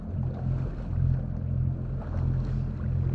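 A sailboat motors along under engine power in a flat calm off Ischia, giving a steady low drone with gentle swells of wind and water noise and no talking.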